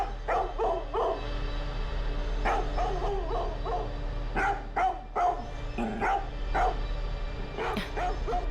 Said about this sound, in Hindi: अजीब है, जब देखो भौंकता रहता है।